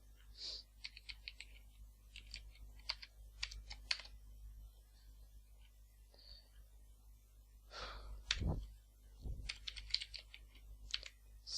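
Computer keyboard typed on while building a software project UI; scattered bursts of quick, faint keystrokes with short pauses between, close by over low room hum and soft breathing, no talk.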